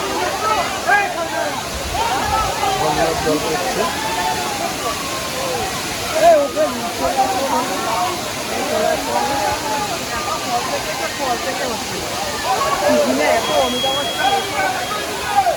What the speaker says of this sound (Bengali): এই তো ঝর্ণা দেখতে পেয়ে গেছি